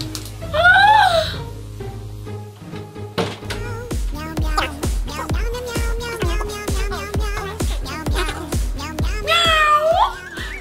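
A domestic cat meows twice in a home where its owner is dressed up as a cat, with a high, bending cry near the start and another near the end, over a steady beat of music and a thudding knock.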